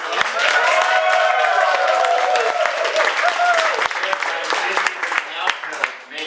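Audience clapping fills a live radio broadcast of a musical in an auditorium, loud and continuous with a voice speaking over it, then thinning toward the end.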